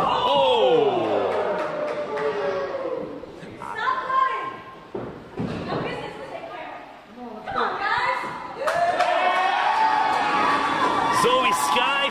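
A wrestling crowd at a women's championship bout roars and cheers loudly and continuously, with whoops and a thud from the ring, under an excited commentator's voice.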